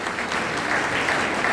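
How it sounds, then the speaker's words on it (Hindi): Loud, dense applause from a crowd honouring young participants at a stage event in Hisar, filling the whole moment with steady clapping and no talk. "तो इन युवा साथियों के लिए आप जोरदार तालियां बजाओ।"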